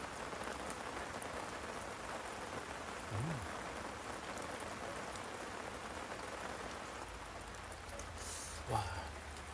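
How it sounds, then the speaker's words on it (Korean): Heavy rain falls outdoors over a wood-fire campfire barbecue, a steady, fairly soft hiss of drops on surfaces with one brief thump near the end. "오늘도 진짜 지금 비가 지금 많이 오는데요."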